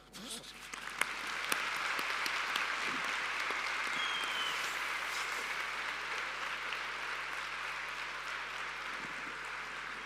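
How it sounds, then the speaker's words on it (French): Audience applause for an elderly witness at a testimony event, steady sustained clapping filling the room at moderate distance, beginning softly then holding level with a few murmurs underneath. "Je crois qu'on peut encore l'applaudir."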